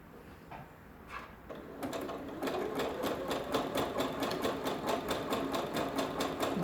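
Sewing machine top stitching knicker elastic, building from slow starts into a fast, steady, even run of stitches that stays loud and close with no talk.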